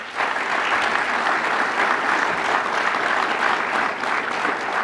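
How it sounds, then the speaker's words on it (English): A lecture-hall audience gives a round of applause for Dr. Gary Gregg, a thick, even roar of many hands clapping that holds steady throughout. "Would you mind giving him a round of applause?"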